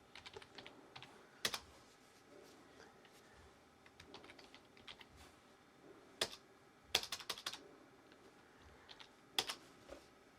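Scattered keystrokes as a password is typed on a computer keyboard under Linux, soft and close, with irregular clusters of clicks and a few sharper key presses amid quiet room noise, no voices.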